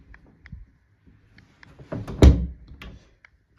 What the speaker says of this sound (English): There you go, door's closing.